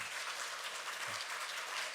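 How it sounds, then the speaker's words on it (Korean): A congregation claps to welcome a guest at a Sunday afternoon church service, a steady wash of applause that holds evenly for the whole stretch, moderately distant and without speech. "박수로 환영하기 원합니다."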